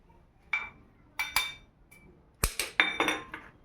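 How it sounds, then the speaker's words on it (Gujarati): Garlic and green chili pounded in a stone mortar for Gujarati garlic chutney, irregular sharp knocking strikes, some single and some in quick pairs, close and fairly quiet against a still background. "મરચું નાખી અને થોડું ખાંડશું"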